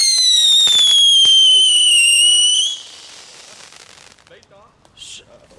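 A Ripple firework goes off in a residential neighbourhood, giving a loud rising whistle for a couple of seconds. It fades into softer crackling and distant pops.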